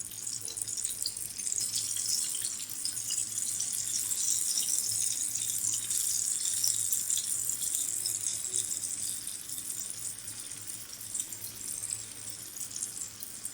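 Coated chicken hot shots sizzle in hot oil over a low flame, a steady, fairly quiet hiss and crackle that carries on without a break.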